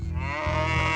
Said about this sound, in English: A single moo followed him, then another